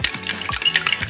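Brown sugar mixed into sweet potato pudding batter: several quick, close scrapes of a spoon through thick batter in a bowl, loud and rhythmic.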